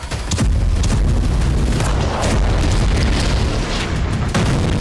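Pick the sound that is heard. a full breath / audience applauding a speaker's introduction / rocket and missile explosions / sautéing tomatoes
rocket and missile explosions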